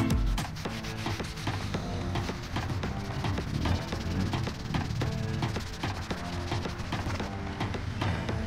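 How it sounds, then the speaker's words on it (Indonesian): Car interior upholstery is scrubbed with firm, even pressure, making a steady close-up rubbing rhythm of repeated brushing strokes with no talk. "Kita gosok dengan tekanan yang terarah ya, yang terukur"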